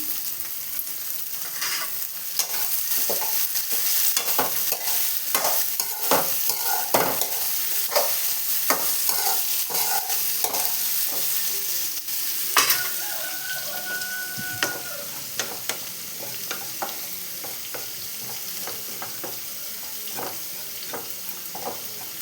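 Vegetables fry in a pan at a steady sizzle for the whole stretch, with frequent clacks and scrapes of stirring scattered throughout and nobody talking over it.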